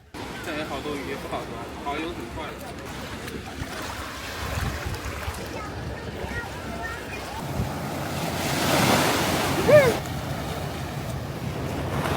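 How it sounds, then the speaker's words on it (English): Ocean waves wash onto the shore at Putuoshan (Buddha Island) in Zhejiang, a broad rushing surf that swells louder near the end, with wind buffeting the microphone and a person talking over it. "And here is the vast, beautiful ocean."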